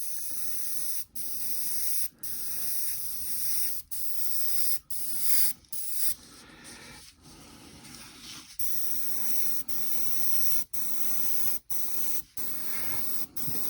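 An airbrush loaded with Vallejo Black Model Air sprays with its nozzle covered, making a steady, faint hiss broken by a dozen brief cutoffs at irregular intervals, with no talk.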